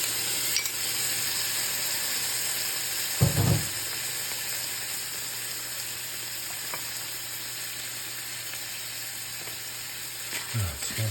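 Olives and capers frying in a pan with pepper flakes for a tuna penne, giving a steady close sizzle throughout with a brief louder crackle and stir burst near the middle and again at the end.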